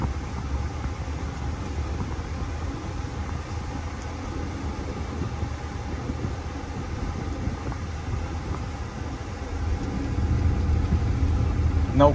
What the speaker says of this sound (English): just so you guys can hear the engine and how this truck shifts